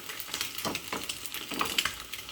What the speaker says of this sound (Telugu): 2 times కొంచెం పచ్చివాసన అంతా వేరే వరకు ఫ్రై చేసుకోవాలి